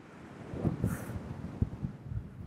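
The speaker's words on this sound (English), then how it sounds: "This wind is fierce." Gusts of wind buffet an outdoor microphone during a cold-weather ride on an e-bike beside a lake, producing low, irregular thumps and rumbles that swell and fade over a few seconds.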